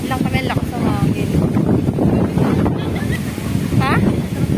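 Strong wind buffets the microphone on the Manila Baywalk by the sea, with surf in the background and people talking over it.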